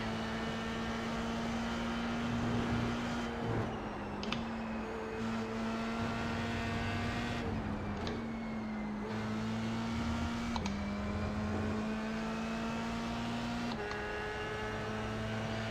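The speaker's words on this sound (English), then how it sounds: "That car behind me is definitely in my slipstream." F3 race car engines in the iRacing video game at the Red Bull Ring give a steady, continuous high-pitched drone with slight pitch shifts, loud and sustained throughout with no talk over it.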